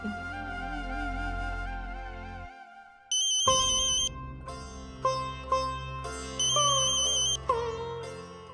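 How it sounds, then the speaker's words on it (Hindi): A phone ringing in a Hindi TV drama, heard as a bright electronic melodic ringtone with repeated tonal phrases and beeps that starts after a low sustained musical drone and continues steadily. "हेलो मानव, इतनी रात को आपने फोन किया?"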